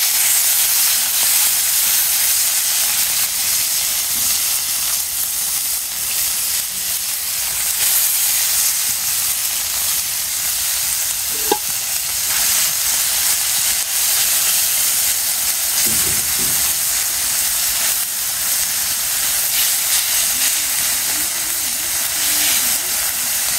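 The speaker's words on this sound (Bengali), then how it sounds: "তেল গরম হয়ে গেছে এখন মাছ দিয়ে দিব" Fish frying in hot oil gives off a steady, bright hiss and sizzle that runs unbroken for over twenty seconds, with a few faint clatters in the background.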